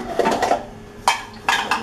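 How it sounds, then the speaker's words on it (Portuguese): Pots, pans and cutlery clink and clatter as dishes are washed by hand in a home kitchen, with several sharp, close knocks spaced irregularly over a soft background. "Vou lavar o restante da louça."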